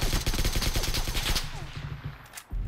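Rapid video-game gunfire crackles in dense bursts throughout, loud and close, thinning out near the end during a friendly-fire exchange between players.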